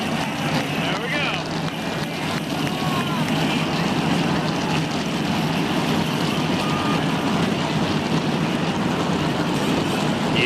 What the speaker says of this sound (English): That's the sound of a lot of horsepower getting wound up and ready to do battle.